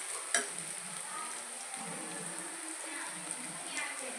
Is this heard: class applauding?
no